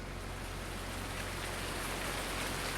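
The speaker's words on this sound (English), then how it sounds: "It's raining," Steady rain falls in a factory-building video game, a dense, even hiss with no breaks and no voices.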